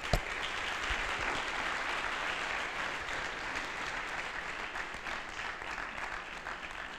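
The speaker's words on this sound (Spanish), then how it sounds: "Vamos a darle un fuerte aplauso para agradecerle que está aquí." An audience at a technology entrepreneurship workshop gives a loud, sustained round of applause welcoming a speaker, dense clapping holding steady for about seven seconds with a sharp close clap at the start.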